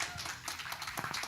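An audience at a live talk claps briefly: scattered, fairly quiet handclaps with faint voices mixed in.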